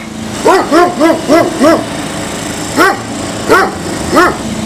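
A dog barks sharply, a quick run of five barks followed by three more spaced-out barks, close by over a steady background hum.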